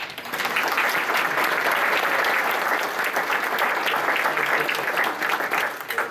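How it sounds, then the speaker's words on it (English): An audience at a county conservation awards ceremony gives a round of applause, swelling quickly to full, steady clapping from many people and then tapering slightly near the end. "and so we'll give you another round of applause."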